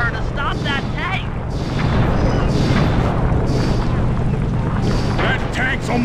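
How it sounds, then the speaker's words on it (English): Tank shelling in the video game Sly 2: Band of Thieves, a dense barrage of booming blasts and rumbling explosions rolling continuously at close range, with game voices talking over the din. "Shoot at her tank, Nick. Keep on shelling her to stop that tank!"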